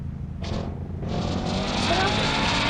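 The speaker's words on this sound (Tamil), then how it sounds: "ஐயோ வண்டி ஸ்டார்டிங்கே பறக்குது. எப்பா என்ன ஸ்பீடு" A motorbike speeds off from the start, its engine roaring up and building into a sustained, loud rush that swells steadily as it accelerates close by.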